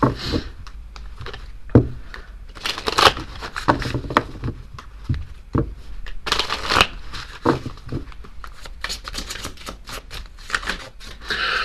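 A deck of oracle cards is shuffled by hand for a tarot-style reading, giving uneven bursts of riffling, tapping and flicking that go on for about twelve seconds, close and fairly crisp.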